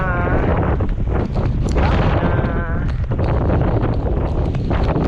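Strong wind roaring and buffeting loudly and continuously, with a person talking underneath the gusts.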